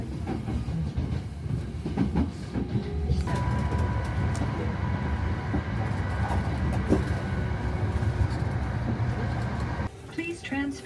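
A Hankyu Rail train in Osaka rumbles steadily past at close range, with a continuous rolling roar and faint wheel clatter lasting throughout.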